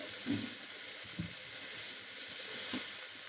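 Chopped ginger and garlic sizzling in a hot pan for chicken stew, a steady close hiss with a few soft clinks and stirring taps.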